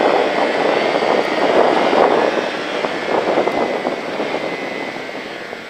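Motorcycle engine accelerating gradually on a rider school course, a loud sustained roar that swells and then eases slightly, with no talking.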